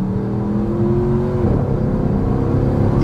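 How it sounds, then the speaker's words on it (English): A Porsche Cayenne Turbo with straight-piped exhaust drones loudly and steadily from inside the car, with a rising whir of turbo spool and a shifting engine note midway, and no one talking. "Turbo spool, baby."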